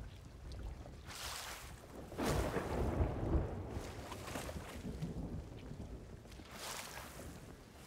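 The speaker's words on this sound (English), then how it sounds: "Don't sail through storms, kids." A thunderstorm at sea in Sea of Thieves: low rumbling swells for several seconds over steady wind and water noise aboard a ship, with softer hissing gusts around it. It is faint and distant.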